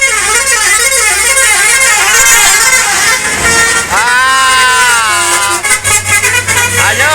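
Several tour buses blast loud, musical air horns in long overlapping melodic tones, near and persistent, with engine rumble underneath and voices faintly mixed in.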